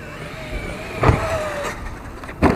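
A Traxxas X-Maxx RC monster truck drives with a rising and falling electric motor whine, close and fairly loud, with a couple of sharp bumps or landings breaking the steady drone.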